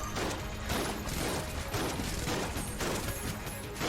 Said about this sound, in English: it pierces, so I might as well shoot through the turret nub